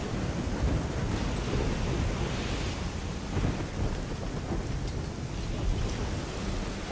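Steady heavy rain and rolling thunder fill a stormy scene in the video game Risen 2, a dense continuous wash of downpour with deep rumbles swelling underneath, with no voices.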